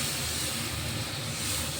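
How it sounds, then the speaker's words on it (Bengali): Water poured into a pan of hot fried spice paste for a jackfruit kofta curry, giving a dense, steady hissing sizzle throughout. "এবার আমি একটু জল দিয়ে দেবো।"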